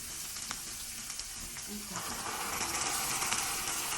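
Tomato paste sizzles in a hot pan as potato cooking water is poured in, the hiss rising and spreading into a louder, steady frying crackle partway through, with no talking.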